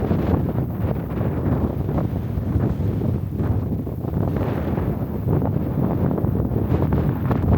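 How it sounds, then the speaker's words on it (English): Strong wind buffeting a microphone among sandstone cliffs at Golden Gate in the Drakensberg, South Africa, a constant low roaring rumble with gusty surges and no talking. "I'll stop talking, too much wind."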